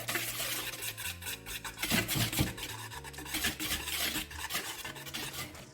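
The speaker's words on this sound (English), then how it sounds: "Whisk this all together." A whisk stirs flour and a pinch of salt in a bowl for Nigerian puff puff batter, a quiet steady scraping and rubbing against a musical backing, with no talking.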